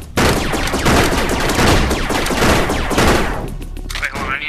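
A grenade explodes in a Rec Room laser tag match, heard as a dense, loud, crackling burst of blasts and rapid fire. The roar runs steadily for several seconds, then thins out into scattered fainter noises.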